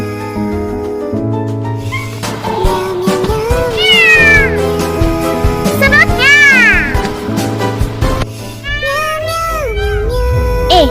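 A voice imitates a cat with a run of high, sliding meows, repeated several times in close succession in a cartoon setting, alongside other childlike voices.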